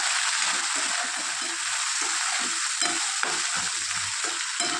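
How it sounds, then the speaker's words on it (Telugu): Chopped tomatoes and green chillies cook in a hot pan with a loud, steady sizzle, and a spatula stirs and scrapes in uneven rhythmic strokes close by, with no talking. "ఈ టమాటాలు కూడా బాగా సాఫ్ట్గా అయ్యేంత వరకు ఉడికించుకోవాలి."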